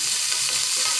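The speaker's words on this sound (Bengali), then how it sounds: "পরিমাণ মতো পেঁয়াজ কুচি দিলাম, 4-5টা কাঁচামরিচ দিলাম, দিয়ে এখন নেড়ে চেড়ে নেব।" Chopped onion and four or five green chilies sizzle and get stirred in a hot pan for an aloo ghati dish, a steady close frying hiss with scraping throughout the short moment.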